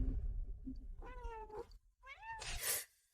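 A cat meows twice, close and clear, with the second call rising into a louder, strained cry, over faint low background hum.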